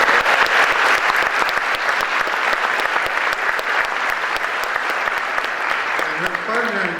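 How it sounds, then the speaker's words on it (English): Steady, dense applause from an audience at a high school senior awards night fills the room throughout, loud and continuous, with a voice faintly emerging near the end. "So give her a round of applause"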